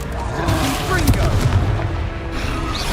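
A Confringo fire-blast spell in Hogwarts Legacy bursts with a heavy booming impact and rumbling tail, loud and close, amid game combat noise with voices present.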